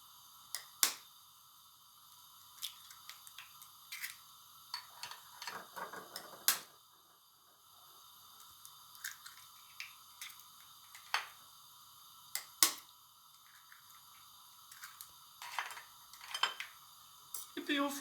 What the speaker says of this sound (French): Et puis on fouette ça gentiment.